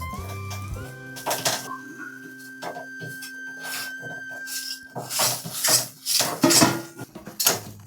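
Greens with gram flour stirred in a kadai for a Marathi garga bhaji: spoon scraping and clinking against metal in irregular strokes, growing louder and busier in the second half, close by with no talk.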